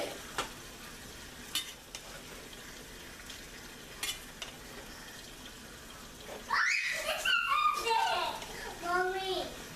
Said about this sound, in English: we're gonna stir.